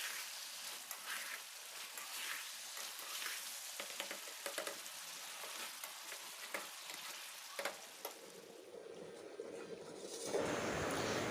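Chicken curry with previously fried potatoes being sautéed in a pan, giving a steady close sizzle with scraping stir strokes, then a louder hiss near the end.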